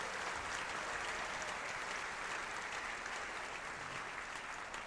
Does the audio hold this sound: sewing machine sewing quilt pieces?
no